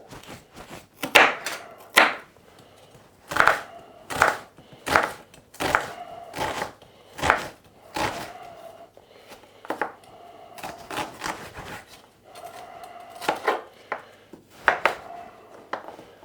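A knife dices carrot on a board in uneven bursts of sharp, close chopping taps, quick clusters broken by short pauses, with no one speaking.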